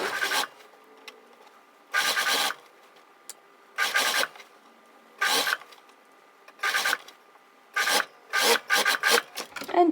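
A sewing machine runs in short bursts as it stitches bias binding around the curve of a dress neckline, with about ten quick stitching runs split by brief pauses, the last few coming close together.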